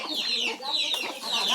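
Hens near chicks cluck nearby in quick rising calls repeated three times over a short stretch, loud and close, with no clear talk.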